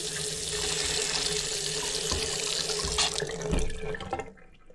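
A newly installed faucet on a sink in a medical center runs steadily and close, a continuous hiss of water splashing into the basin before being shut off.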